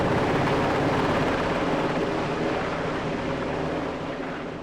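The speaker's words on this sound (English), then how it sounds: "a CAL FIRE aircraft paints the sky with retardant." A broad, roaring drone of a CAL FIRE firefighting aircraft passing overhead while dropping retardant near a wildfire, loud and steady, slowly easing off over a few seconds.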